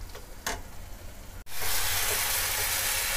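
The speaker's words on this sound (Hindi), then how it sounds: "लेकिन अभी इसे 2 मिनट तक और भूनूंगी, मसाले पके नहीं हैं अच्छी तरीके से" Tomato and spice masala fries in a pan, a short clatter followed by a sudden, loud, continuous sizzle that holds steady to the end.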